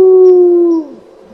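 A man imitates a wolf howling with his voice: one loud, close, sustained tone that drops in pitch at the end.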